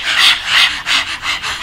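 A woman pants loudly with her mouth wide open and tongue out, imitating a dog after a run: about five rhythmic, breathy, raspy huffs in close succession.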